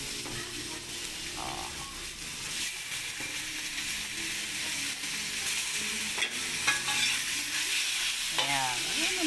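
Meat sautés in a hot pan, a steady nearby sizzle broken by stirring scrapes and occasional sharp clacks of a utensil against the pan, with no voices.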